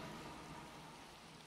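Rain in Minecraft, a faint, even hiss of falling rain with no voices, steady throughout.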